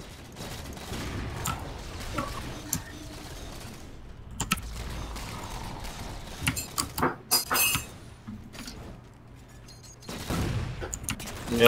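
Pistol fire in Halo: The Master Chief Collection, a quick burst of sharp shots over a low game rumble, with scattered clicks and bangs and a louder surge near the end.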